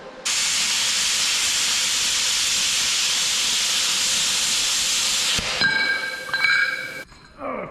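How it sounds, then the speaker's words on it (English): A Harbor Freight plasma cutter slicing through a metal plate gives a loud, steady hiss for about five seconds, then stops. Clinks and scraping of the metal follow, close by. "We're gonna use our Harbor Freight plasma cutter"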